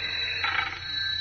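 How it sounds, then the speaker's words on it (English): Old-time radio drama telephone ring sound effect: a single short electric bell burst, moderately loud and alone against steady background hiss. "Just a moment. That's my phone."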